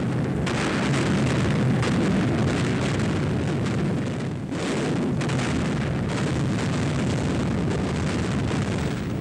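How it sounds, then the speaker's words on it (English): Bombs bursting in night air raids on Hamburg in July 1943, a dense continuous roar of explosions and rumbling fire, loud and sustained with a brief dip midway. "The bombs create a horrific firestorm."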